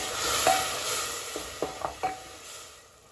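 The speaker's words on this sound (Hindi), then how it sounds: "अब इसमें थोड़ा सा हम पानी ऐड कर देंगे ताकि तड़का जले नहीं। अच्छे से मिला लेंगे।" Tadka tempering for Kashmiri haakh sizzles steadily in a pan as a little water goes in, with a few sharp clinks and scrapes of stirring near the mic and no talking.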